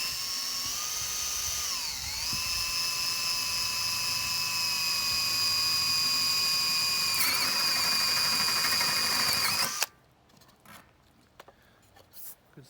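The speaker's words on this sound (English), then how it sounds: "when you're drilling through, again, this is the panel here" A high-pitched power drill whines steadily for about ten seconds, the pitch dipping briefly as it bites through metal, then stops abruptly, leaving quiet room noise.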